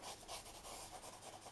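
Coloured pencil shading across paper, soft rapid scratchy strokes in a steady back-and-forth rhythm, close and faint.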